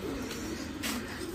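Pigeons coo in a breeding room holding about eight pairs, a soft, close, rolling coo lasting barely over a second against quiet indoor background noise.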